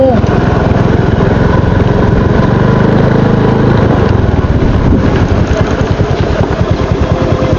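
A passenger motorcycle's engine runs steadily and loudly up close, a continuous rough idle-like drone with pulsing rhythm throughout, while people talk over it.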